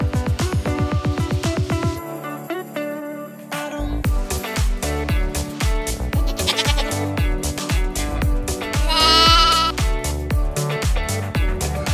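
Sheep or goats at a nature park farm in Pantabangan, Nueva Ecija, Philippines, give repeated loud, wavering bleats in close succession, with other sounds mixed in.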